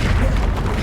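A Confringo fire spell explodes in the Hogwarts Legacy video game, a loud, dense booming blast that fills the whole brief moment without a break.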